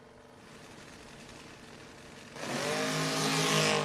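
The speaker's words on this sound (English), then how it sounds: "Driving the orange Nova up against Holland's 79 Camaro." An orange Nova and a '79 Camaro in a heads-up no-box drag race, engines droning at a distance before a sudden surge as the cars launch and roar loudly through the final seconds.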